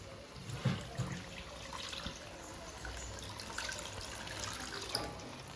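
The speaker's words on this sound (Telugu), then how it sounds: "ఇప్పుడు మనం పులుసు పోసేసుకుందాం" Tamarind broth (pulusu) pours into a Godavari-style fish curry on high flame, giving a steady soft liquid wash with faint splashes and a few brief louder spurts near the start and end.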